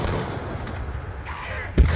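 An explosion in the zombies mode of the video game Black Ops II, a sudden low boom near the end after a quieter stretch of game noise.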